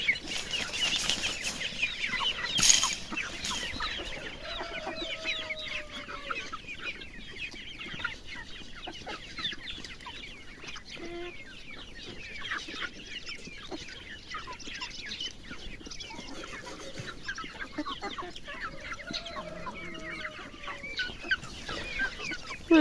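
Backyard chickens cluck and flap while fed freshly picked knotgrass, a busy chorus of nearby clucks and short calls with wing flutters, a louder flurry early on, and no voices.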